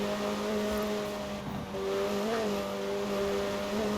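McLaren 720S Spider engine in Forza Horizon 4, a steady mid-pitched drone with a slight rise and fall as the supercar cruises, heard alone at moderate level for a few seconds.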